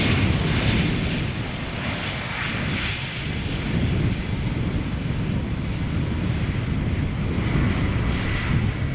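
A Lufthansa airliner arrives at Schiphol Airport on a crosswindy day, a loud, sustained jet roar mixed with wind buffeting the microphone, swelling and fading slightly throughout.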